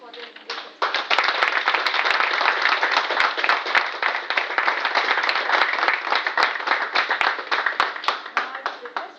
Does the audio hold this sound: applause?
yes